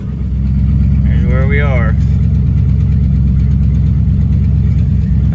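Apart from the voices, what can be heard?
1955 Buick Nailhead engine running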